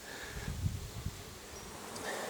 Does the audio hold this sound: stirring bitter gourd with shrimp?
no